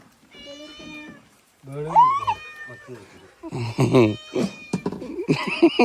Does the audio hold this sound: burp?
no